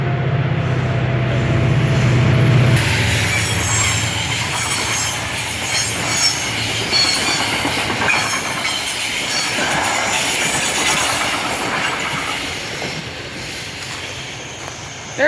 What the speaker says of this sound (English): Okay guys, the train's coming by.